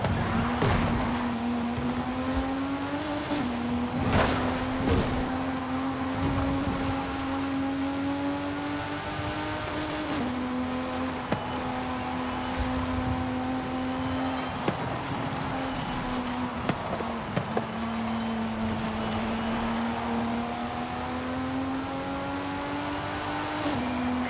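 A BMW M4 engine drones steadily in a racing video game as it chases a Honda, a sustained mid-pitched whine that dips briefly at each gear change every few seconds, with no talk over it.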